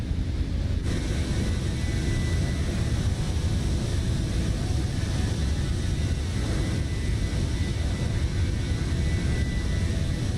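Airliner engines roar during the takeoff climb in Microsoft Flight Simulator, a loud, constant broadband rumble with a windy hiss that holds steady throughout.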